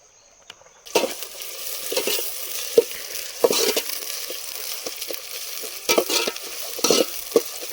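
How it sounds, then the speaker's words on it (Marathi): Onions fry in hot oil, browning for a prawn biryani, with a steady sizzle broken by sharp, close scrapes and clatters of a spatula stirring in the pan. "कांदा एकदम ब्राऊन होऊ देत तोपर्यंत मस्त की तेलामध्ये भाजूया"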